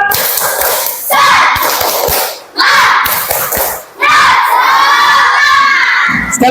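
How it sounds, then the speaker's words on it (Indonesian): Elementary schoolchildren in a classroom shout a rhythmic spirit-clap chant together in loud, close bursts, with claps and thumps set off by brief pauses between phrases. "Coba kita tepuk semangat dulu. Tepuk semangat."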